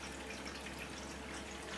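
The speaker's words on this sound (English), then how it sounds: "highly efficient solar pump, pumping water up this height here" Water from a Topsflo solar pump pours steadily back into a tank, a constant close splashing rush with a low steady hum and no pauses.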